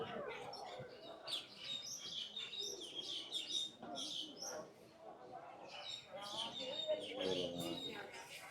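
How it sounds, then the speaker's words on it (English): Pigeons call in a zoo aviary at Animal Kingdom: a busy, fairly faint mix of chirps, tweets and soft coos keeps going throughout, with background chatter from visitors. "it's a little pigeon"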